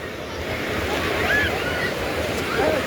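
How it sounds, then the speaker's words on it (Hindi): Sea waves wash continuously onto the beach at Digha, West Bengal, a steady broadband surf roar with wind buffeting the microphone and faint crowd sounds of people enjoying New Year celebrations. "पानी की लहरें आती हैं उनको और बहा के बाहर की तरफ कर देती हैं"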